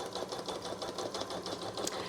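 A Janome Memory Craft 1000 embroidery machine stitches fabric in a fast, even mechanical whir with rapid needle ticks, close and continuous.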